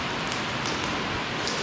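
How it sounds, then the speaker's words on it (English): Steady rain falls outdoors at a concrete slab job site before a pour, a dense, even hiss of drops on surfaces that runs unbroken and fairly close throughout. "It's raining out."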